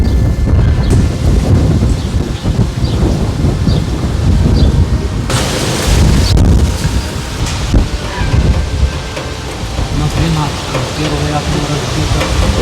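Strong wind roars and buffets the microphone continuously, loud and close, with a sharper gust partway through.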